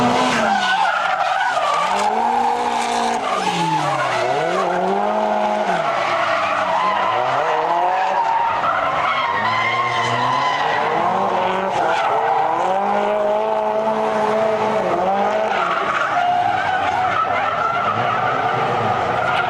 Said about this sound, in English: The fast corner always supplies the most spectacular drifts